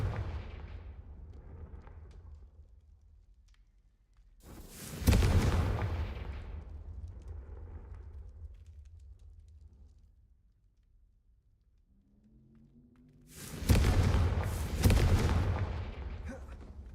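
Hogwarts Legacy Confringo fire spell blasts: two loud explosive bursts several seconds apart, each booming then fading, with quieter game ambience between.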